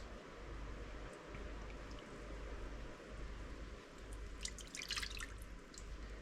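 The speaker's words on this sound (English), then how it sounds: "So I'm literally going to just spoon my oil through this filter." Rendered pig fat oil spooned through a filter drips in a few quick, faint, close droplets over a steady low background hum.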